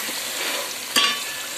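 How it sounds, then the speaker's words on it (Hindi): Mutton trotters (paya) frying with fried onions and spices in a pan, giving a steady soft sizzle with one brief louder hiss or stir partway through, with no talk. "अब हम जरा से पाए भी भूनेंगे इसके अंदर थोड़े थोड़े।"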